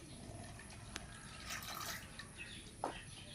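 Cut pui shak greens being rinsed in water, with soft drips and light splashing throughout and a brief sharper splash near the end, close and fairly quiet with no speech.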